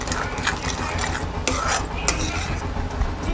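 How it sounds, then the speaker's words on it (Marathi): Mango sheera cooking in ghee while a spoon stirs and scrapes it around the pan, giving steady rhythmic scraping with light sizzling and occasional metallic clinks. "आता याला पूर्ण असं तूप सुटेपर्यंत परतवून घ्यायचं आहे"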